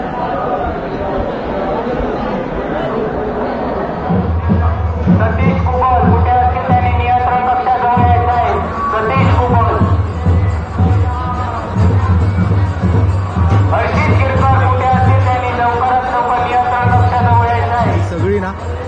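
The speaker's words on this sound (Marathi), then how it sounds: "दर्शनासाठी गर्दी झालेली आहे" A dense crowd of devotees murmurs and chatters at the Anganewadi Bharadi Devi temple fair in Konkan, a steady hubbub with a low throbbing drone beneath it while someone talks over it.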